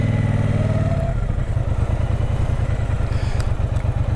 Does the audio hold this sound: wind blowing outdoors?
no